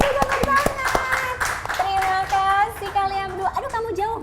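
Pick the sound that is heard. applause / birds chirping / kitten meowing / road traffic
applause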